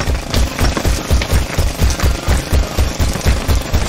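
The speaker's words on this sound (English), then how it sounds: "The jackhammer's breaking up the concrete!" A jackhammer pounds concrete in rapid, steady bursts, loud and close, its hammering rhythm repeating without pause.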